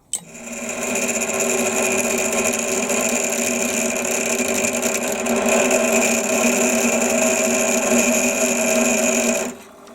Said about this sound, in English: need to find an appropriate couple of drills now and drill it out